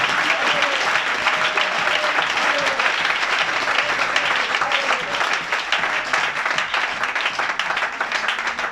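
Church congregation applauding loudly and steadily in praise, dense sustained clapping filling the room with voices and acclamations mixed in, continuing without pause.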